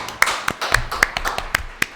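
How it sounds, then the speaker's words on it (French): Audience at a Super Smash Bros. tournament loser final claps in a sparse, uneven patter of individual hand strikes, moderately close and not very loud. "On les applaudit, ça peut."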